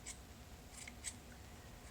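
Scissors trim a yarn pom-pom in a few quiet, scattered snips against a hushed background.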